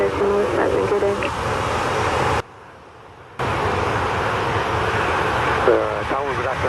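A jet airliner roars on takeoff from runway 07 at Montego Bay, Jamaica, a loud sustained engine rumble close by. A brief cut to near quiet interrupts it, and radio-style voices talk over it near the start and the end.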